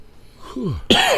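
A single person gives a short cough that starts with a low rough burst and ends in a sharper, louder hack, close to the microphone.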